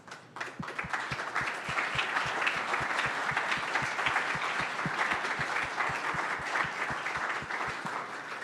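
Audience at a CyStarters summer demo day applauding the standing summer educators, a dense, even round of clapping with a steady rhythmic beat of low thumps running through it, sustained throughout.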